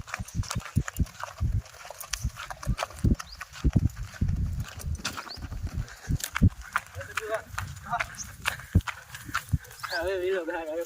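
A tired mare walks with irregular hoof clip-clops on the ground, close by, while people talk over the steps and a short musical tone slips in at the end.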